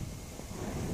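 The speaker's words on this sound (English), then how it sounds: "So it's pretty windy." Steady wind buffets a microphone outdoors on a street in Japan, a continuous low rumbling roar for a brief moment with no talking.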